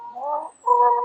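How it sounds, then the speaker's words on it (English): Two ducks on an urban farm give nasal, drawn-out quacks, one call then a second louder one after a short gap, close and clear with no talking. "I've got 2 ducks, guys."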